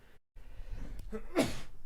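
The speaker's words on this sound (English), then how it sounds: "By yelling salud, everyone then knows that I sneeze" A single sharp sneeze bursts out after a brief silence, close and loud, with faint background noise around it.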